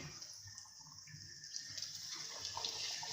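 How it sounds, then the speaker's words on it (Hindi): Bread slices deep frying in hot oil while Aloo aur Suji finger chips are being made, a steady soft hiss and bubbling throughout with no talk. "अब ये ब्रेड स्लाइसिस हम इसमें एक एक करके डालेंगे और इन्हें डीप फ्राई करेंगे।"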